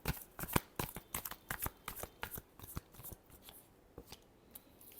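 Tarot deck being shuffled by hand at close range, a quick run of crisp riffling clicks and flutters in uneven bursts, with no talking.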